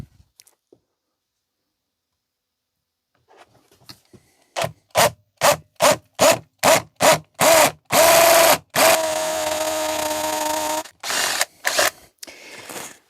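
A power drill with a 16mm bit bores anchor bolt holes in a run of short bursts, about a dozen quick on-off pulses, then one longer sustained grind before a few final bursts; close and loud.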